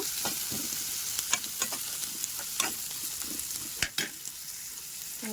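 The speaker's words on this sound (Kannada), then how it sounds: "ಇದನ್ನು ಸ್ವಲ್ಪ ಫ್ರೈ ಮಾಡೋಣ ಈಗ ನಾನು ಈರುಳ್ಳಿ ಹಾಕೊಳ್ತೀನಿ" Chopped onions frying in oil in a pan for a Kannada-style paneer gravy with gram flour, a steady close sizzle broken by repeated scraping stirs of a spoon against the pan, with no voices.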